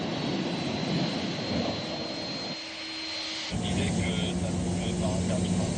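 Jet airliners taxi toward takeoff in snow and ice at Roissy Charles de Gaulle airport, giving a steady broadband engine roar that briefly dips before returning, moderately distant.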